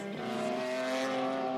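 An Alpine A441 race car with a V6 engine driving past, a strong steady engine note holding a sustained pitch throughout, loud and close with no voices.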